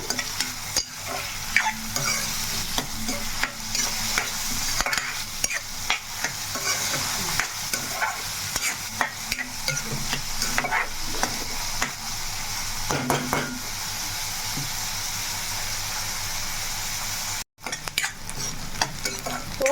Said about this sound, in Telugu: ఇప్పుడైతే మనకి చక్కగా ఉల్లిపాయ అనేది బాగా వేగింది